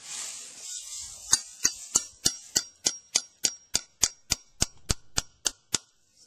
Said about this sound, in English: And then I tap it in with the side of the hammer till it's into about there.